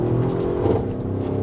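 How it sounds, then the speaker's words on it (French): A Mercedes GLS 63 AMG with a 5.5-litre biturbo V8 revs loudly close by, a steady deep engine roar with slight pulsing that holds for the whole short stretch and has no talk over it. "On va se faire un petit sound check parce que vraiment un V8 de 5 litres 5 biturbo"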